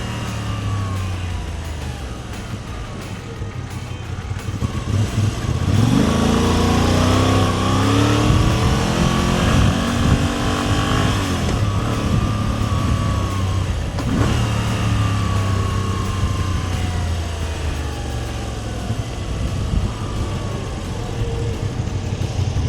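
A Moto Guzzi V85 TT motorcycle engine roars steadily while riding through Chicago's Pilsen neighborhood, rising and falling in pitch as it accelerates and shifts gears, loud and close with wind rush.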